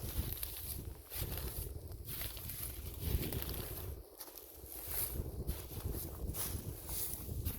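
Wind gusts buffet the microphone on a hilltop near the village of Modolitsy, a continuous low rumble that swells and dips, briefly easing around the fourth second, with no talking.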